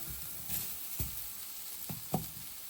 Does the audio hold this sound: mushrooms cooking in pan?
yes